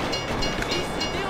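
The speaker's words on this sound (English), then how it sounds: "If you were local, you'd know the train comes by right now." A train rolls past in GTA V, a steady loud rumble of wagons and wheels filling the short moment, with no pauses or voices.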